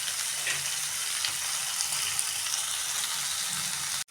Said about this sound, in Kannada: ನೋಡಿ, ಇವಾಗ ಚೆನ್ನಾಗಿ ಬೀನ್ಸು ಫ್ರೈ ಆಗಿದೆ